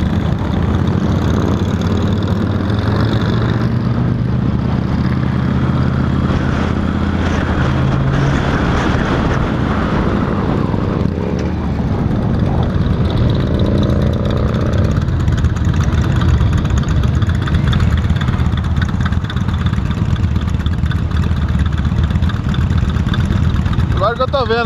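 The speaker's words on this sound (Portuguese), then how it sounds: "Menos 60 motos aqui na rua agora." Around sixty Honda Valkyrie F6C motorcycles sit idling on a street in Webster, New York, making a continuous low engine rumble throughout, with heavy wind buffeting on the microphone.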